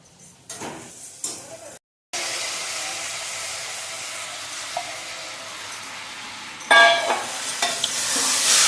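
Basmati rice being stirred and roasted in a pan for pulao, a steady scraping sizzle that runs continuously after a brief silence, with a sharper clatter near the end.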